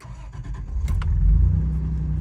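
A Toyota 4Runner engine with a new battery cranks briefly and catches, settling into a steady low idle rumble with a few short mechanical clicks.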